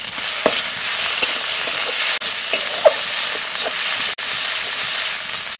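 Chili paste sizzles and fries loudly in a hot pan for Santali-style cabbage egg masala curry, a steady close hiss broken by a few sharp stirring clacks, with no talking.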